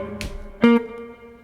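Jazz blues lick on an electric guitar: two quick picked notes, the second ringing out with a sustained tone before fading, played alone and close up.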